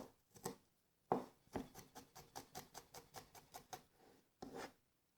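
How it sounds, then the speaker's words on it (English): Garlic minced with a knife on a cutting board while making a kale salad: a quick series of about a dozen sharp, even chops at close range, with a few heavier knocks at the start and end, and no voices. "we're going to mince our garlic"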